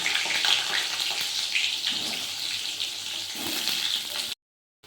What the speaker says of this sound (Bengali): এরকম করে আমি আলুগুলো ভেজে নিব।